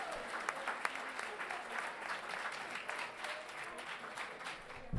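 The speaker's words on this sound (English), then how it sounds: "Let's have one more round of applause for those Keno Junior High School All-Stars." Steady applause from a school governing board meeting audience honoring Keno Junior High School all-stars, a dense, continuous patter of many hands at moderate distance lasting throughout.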